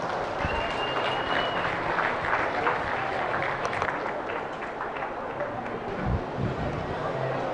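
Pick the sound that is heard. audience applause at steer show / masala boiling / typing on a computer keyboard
audience applause at steer show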